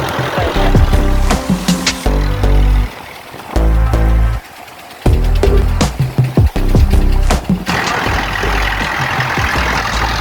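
Tractor engine running in a flooded paddy field being prepared for rice, a loud steady rumble with churning water and splashing bursts throughout, briefly dropping at moments.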